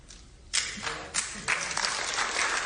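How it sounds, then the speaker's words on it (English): An audience breaks into applause, starting from a quiet murmur, then clapping swells in a few surges into a sustained, fairly close ovation. "then everyone decides to applaud"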